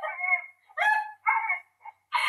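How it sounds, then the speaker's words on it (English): A dog with a strange, broken-sounding bark lets out several short, squeaky, high yelps in quick bursts separated by brief silences, close and clear with no other sound. "that dog's voice box is broken"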